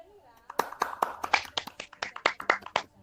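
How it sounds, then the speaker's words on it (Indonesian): Children in an elementary classroom clap for a student group, Tia and Latif's team, in a brief burst of sharp, uneven claps that swell after a quiet start and run about three seconds up close. "kelompoknya Tia dan Latif, tepuk tangan"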